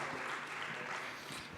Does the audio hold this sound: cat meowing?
no